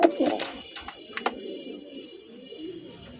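Giribaj pigeons coo softly nearby, low throaty calls under some faint background noise and a few sharp clicks.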